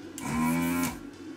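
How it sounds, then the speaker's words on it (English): A desoldering gun pulls solder off the underside of a Philips CD104 CD player circuit board, giving a short steady droning hum bracketed by hissy bursts of suction at start and finish, close and alone. "So I'm just going to desolder it on the bottom here with my desolder gun."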